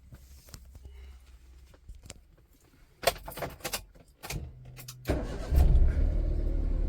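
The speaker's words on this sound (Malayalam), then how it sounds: "അപ്പം ഞാൻ വണ്ടി സ്റ്റാർട്ട് ചെയ്തു" Keys jangle, then a Suzuki Alto car engine cranks and catches, settling into a steady idle rumble up close.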